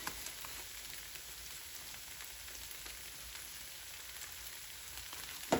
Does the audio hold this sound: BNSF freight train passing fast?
no